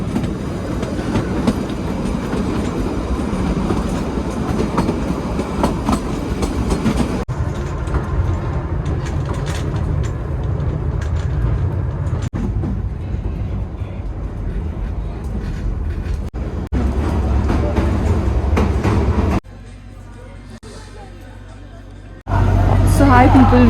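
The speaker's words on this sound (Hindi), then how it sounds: "अब ट्रेन की जगिंग को एंजॉय करिए" Vistadome coach train riding from Shimla to Kalka in winter, a steady loud rumble of wheels on rails with clickety-clack rhythm and shifting tone, faint cabin chatter underneath.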